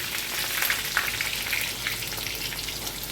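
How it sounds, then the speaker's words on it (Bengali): Chopped onions hit smoking-hot oil in a kadai and fry with a loud, steady crackling sizzle and scattered pops, close up and with no voices. "তেল গরম হয়ে ধোঁয়া উঠছে। এবার দিয়ে দিলাম পেঁয়াজ।"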